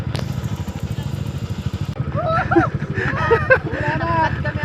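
A Kawasaki Z900 motorcycle engine rumbles steadily up close, with people talking over it.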